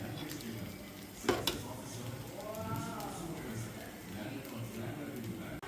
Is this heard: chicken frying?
yes